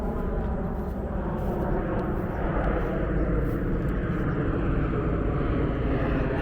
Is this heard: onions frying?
no